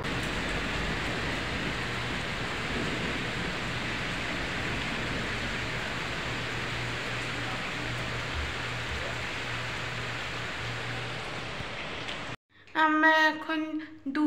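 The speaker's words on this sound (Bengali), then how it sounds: "এবার তোমাদের সাউন্ডটা শোনাই বৃষ্টি যে কীরকম জোরে" Heavy rain falls in Rajasthan, a dense, continuous hiss that holds steady and loud for about twelve seconds before breaking off abruptly, followed by a person speaking.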